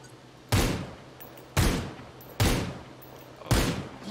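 Four sharp single gunshots ring out in a video game, spaced roughly a second apart, each a loud crack with a short decaying tail, no talking between them.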